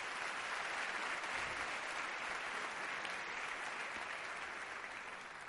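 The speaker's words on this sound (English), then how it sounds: "and let's give them a round of applause." Large audience at an annual meeting in a concert hall applauding past chairs, a continuous, uniform roar of clapping, somewhat distant and steady, easing slightly near the end.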